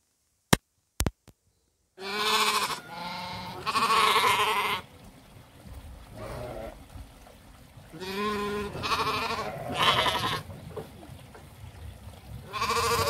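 Hissar ewes on a farm bleating in several loud, drawn-out calls close by, overlapping at times with brief pauses between them, after two sharp clicks at the start.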